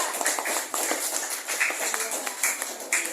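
A classroom of students claps for a group that has just presented, a quick uneven burst of close hand claps from several pupils lasting a few seconds.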